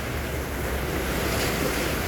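Ocean surf rolling in at the seaside, a full continuous roar of breaking waves with gusty wind buffeting the microphone, close and steady throughout without talk.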